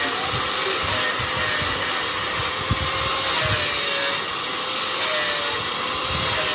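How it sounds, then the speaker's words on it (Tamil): A power grinder working steadily over a leaking surface to seal it against water, giving a continuous loud whine and hiss with no pauses and no talking. "அதுக்கு தான் இது நல்லா கிரைண்ட் பண்ணிக்கிறோம்."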